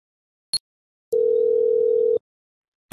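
A telephone call to the Halo BCA bank helpline: a single steady ringback tone lasting about a second, bracketed by brief line clicks, in an otherwise silent line.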